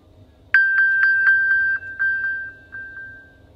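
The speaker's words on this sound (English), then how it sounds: "on the Apple Watch, where I can make it ping and flash" An iPhone pings after the Apple Watch's find-phone feature triggers it, a clear run of about ten quick bright chimes on one steady pitch, loud and close, fading slightly toward the end.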